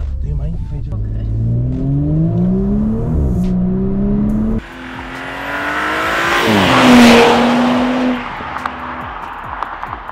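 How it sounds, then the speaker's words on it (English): Audi B9 S4 with a Unitronic Stage 1+ tune accelerating hard, its engine rising through the revs in a gear change, then pulling again with a louder exhaust note and a passing roar; loud and close throughout. "the tune has transformed the exhaust"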